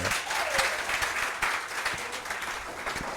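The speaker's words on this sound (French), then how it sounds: "On applaudit quand même." At a school quiz match, an audience claps steadily at moderate volume with a dense, even patter that continues for the whole stretch.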